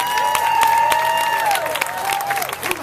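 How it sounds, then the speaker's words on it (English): An audience applauds Vicki at an American Petroleum Industry event, with a dense wash of clapping while a sustained tone slides downward over it partway through. "I want you to give Vicki a tremendous round of applause"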